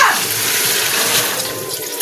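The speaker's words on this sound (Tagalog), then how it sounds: "Lagyan ng tubig." Water pours loudly and steadily into a cooking pot holding tomatoes and pork for pork pochero, a close, gushing splash lasting about two seconds.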